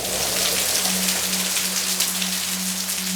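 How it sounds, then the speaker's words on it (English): Heavy subtropical monsoon rain pours down in a steady, dense hiss of drops striking surfaces close by, with a faint low tone running underneath. "The subtropical monsoon, with warm and humid air, brought ample precipitation."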